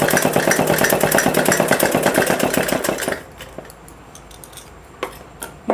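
Electric sewing machine stitching the shoulder seam of a girl's suit, a steady loud rapid mechanical whir for about three seconds, then stopping, leaving faint clicks and handling noise.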